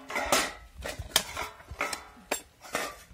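Masale bhat is served onto plates with a few close clinks and scrapes of a spoon against metal dishes, spaced irregularly and without talk.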